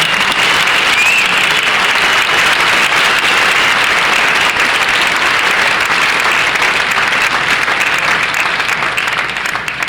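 Sustained, loud applause fills a banquet hall for sports officials being inducted at an annual hall-of-fame ceremony, a dense, steady crowd clapping that holds for the full length with no voices rising above it.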